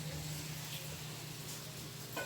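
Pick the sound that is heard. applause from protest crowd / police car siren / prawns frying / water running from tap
prawns frying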